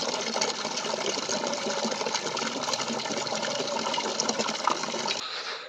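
Tap water pours steadily into a tank in a village setting, a dense continuous gushing rush that holds level for about five seconds before cutting off abruptly near the end.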